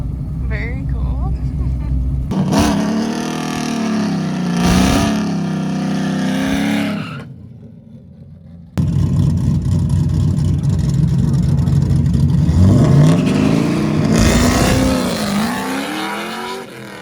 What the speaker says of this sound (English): Right-hand lane, Nissan 240 with an LSA supercharged LS in it.